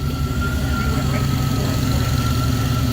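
A 1966 Pontiac Catalina wagon's engine idles with a loud, steady low rumble close by, and the tone holds even throughout.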